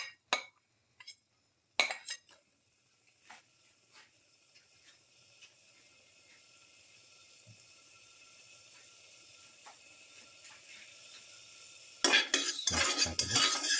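Shallots going into hot oil in a pan for a pepper beef cashew stew: sparse metal clinks and utensil clatter first, then a quiet sizzle that slowly builds before bursting into a loud, crackling fry at the end.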